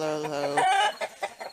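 Chickens in a backyard coop cluck and call briefly, with a drawn-out rooster-like note at the start giving way to a few short, soft clucks.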